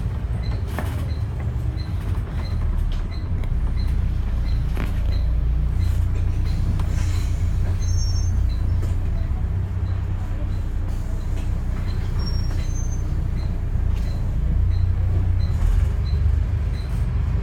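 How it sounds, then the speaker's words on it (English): Interior of a Dublin Bus tour bus driving through Dublin, a steady loud low engine rumble with rattles and creaks throughout, continuous from start to finish, with faint voices in the background. "I'm currently taking a tour with Dublin Bus."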